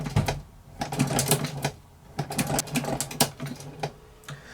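Singer 29k boot patcher sewing machine stitching a patch, a close, rapid clattering of needle strokes in short irregular bursts with brief pauses between runs.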